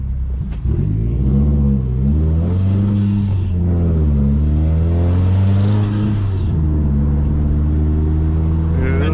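A new Subaru WRX engine revs loudly and steadily for about nine seconds, its droning tone swelling and dipping as the revs rise and fall. No one speaks over it.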